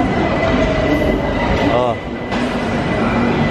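A train at a Bangkok station platform rumbles steadily and loudly nearby, with a brief metallic wheel squeal partway through and a voice speaking briefly.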